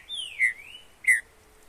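Green-winged saltator (trinca-ferro) singing in the woods: two short, clear whistled phrases with rising and falling notes, fairly close against quiet background.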